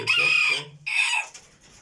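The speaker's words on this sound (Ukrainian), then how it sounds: "квочка, що вона, коли ходить, видає такі звуки." A broody hen gives two drawn-out, throaty clucking calls close by, the second trailing off into quiet.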